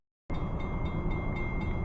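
A train rumbling steadily past at close range, a loud, even roar that starts abruptly and holds without pause.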